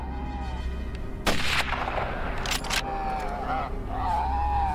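Hunters fire gunshots at a large wild boar on a Turkish hillside, a close, loud crack followed by a quick pair of further shots over a constant background hum.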